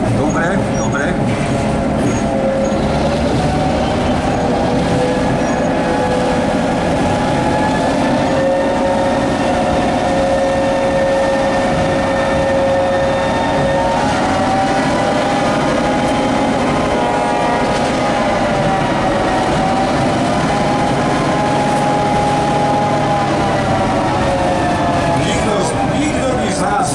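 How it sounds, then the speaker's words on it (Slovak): A 2000-horsepower diesel locomotive with a two-stroke engine built for Hungarian railways runs steadily at a turntable parade, a loud continuous engine drone with tonal whine throughout and someone talking over it. "Počuje 2000 konských síl, dvojtaktný dízlový motor."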